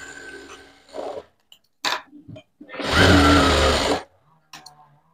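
An electric sewing machine stitching a blouse runs in one sustained burst of about a second, close by, with a few shorter clicks and bursts of handling noise before and after.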